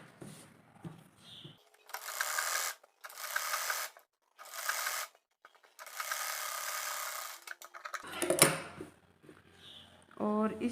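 Sewing machine stitching a straight seam on a strip along a baby dress armhole, several bursts of rapid mechanical whirring separated by short pauses, close, with a voice talking at the end.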